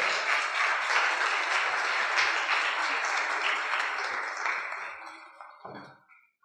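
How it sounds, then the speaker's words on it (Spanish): Audience applause at a conference on food allergies, a dense sustained clapping from a crowd that holds for several seconds, then thins and fades out with a few last claps. "Un fuerte aplauso, por favor."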